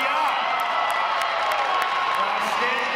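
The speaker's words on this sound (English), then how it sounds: "so let's give them a round of applause." A large crowd at a U.S. Navy Recruit Training Command graduation cheers and whoops continuously, a dense, loud wash of voices filling the whole stretch.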